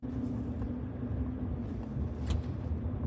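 A steady low engine and road drone fills the cabin of a moving car, constant and close, with no talk.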